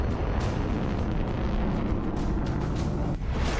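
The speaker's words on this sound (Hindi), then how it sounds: "रूस ने यहाँ अपनी एक पुरानी लेकिन बहुत ही खतरनाक मिसाइल टेस्ट की" The Russian Moskit supersonic anti-ship cruise missile blasts off in a test launch, a loud, dense, continuous roar of rushing exhaust that fills the whole moment without letup.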